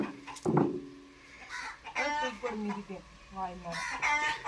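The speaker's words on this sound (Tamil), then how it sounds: "எதுக்கு இந்த கோழி கத்திக்கிட்டே இருக்கு கொக்கொக்கொக்கொன்ட்டு கத்துது" A chicken clucks and crows loudly and close by in short repeated bursts, with people talking around it.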